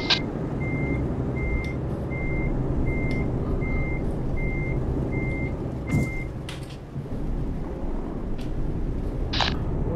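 Reversing beeps from a truck in Euro Truck Simulator 2, a steady row of about nine evenly spaced tones over a continuous engine rumble, with a few clicks and knocks.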